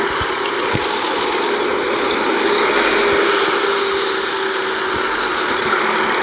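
Rear-mounted engine of a Marcopolo Viale city bus on route 411 in Fortaleza, running as a steady, muted low hum beneath a constant broadband hiss, with no talking.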